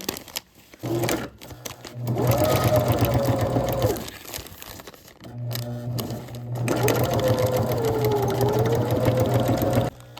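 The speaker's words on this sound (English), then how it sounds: "I'm going to stitch this to my bag and then I'll trim it when I'm done" A sewing machine stitches fabric onto a handmade gift bag in two long, steady runs of rapid needle chatter and motor hum. A short pause separates the runs, and the sound is close and fairly loud.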